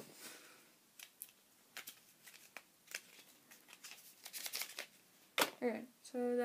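Taped packaging is ripped open by hand: a run of crisp, close tearing and crinkling bursts in quick irregular succession, with a voice starting at the very end.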